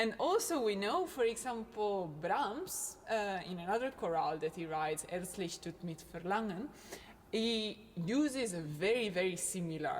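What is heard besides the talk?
No everyday noise stands out behind the speech.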